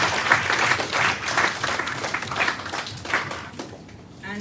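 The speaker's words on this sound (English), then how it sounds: "Special applause may be given to both of them." An audience at a campus placement event gives a round of applause: steady, fairly close clapping for several seconds that tapers off toward the end.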